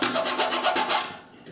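A thin-kerf miter saw cuts through wood for a Proton Pack prop build, giving a close, rapid rasping grind of repeated strokes that fades out toward the end of the short cut.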